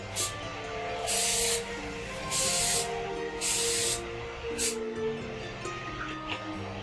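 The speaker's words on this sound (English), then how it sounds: "oil spray that you have. You want to lightly coat the inside." Several short bursts of cooking oil spray hiss from a can, coating the inside of a pan for English muffins, each lasting under a second, close up against a quiet background.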